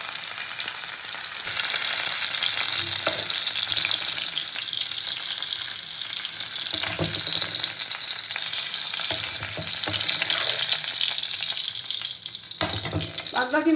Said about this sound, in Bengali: ভালো করে উল্টে পাল্টে মাছগুলোকে আমি ভেজে নেব।